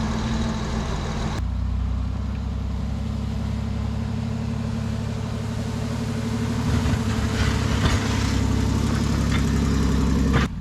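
A rock crawler rig with a snowplow mount drives down a driveway, its engine running loud and steady nearby with a low rumble throughout.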